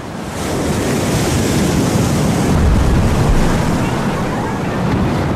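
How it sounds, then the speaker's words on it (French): A tidal bore surges along the coast with a continuous, loud roar of rushing water mixed with heavy wind noise, steady throughout and slightly building after the first second. "Ce véritable raz-de-marée s'élève parfois jusqu'à 9 mètres de haut et atteint une vitesse de 40 km/h"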